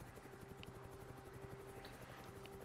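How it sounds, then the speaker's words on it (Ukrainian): A helicopter in the video game Chernobylite thrums as a steady low rotor drone with a faint rhythmic chop, alone and continuous at a moderate distance. "Всі чують вертольот?"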